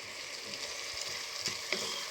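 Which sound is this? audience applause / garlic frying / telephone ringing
garlic frying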